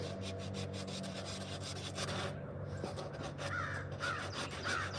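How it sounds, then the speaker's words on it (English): Crows caw outdoors in a woodland setting, several rough calls from mid-distance repeating in the second half, over a soft steady rasp of wood being worked for spoon carving. "Plenty of birds out here, crows and hawks and everything else"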